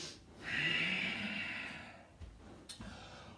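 A long, deep exhale at the end of a breathing exercise, a close breathy rush through nose or mouth that swells and slowly fades, followed by a few softer breaths.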